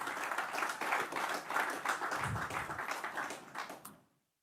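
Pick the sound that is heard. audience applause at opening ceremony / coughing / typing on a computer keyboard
audience applause at opening ceremony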